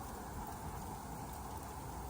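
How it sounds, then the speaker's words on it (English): Rain falls steadily outside after earlier snow, a soft, even hiss of drops with no voices. "I think maybe it has been snowing and it's raining now."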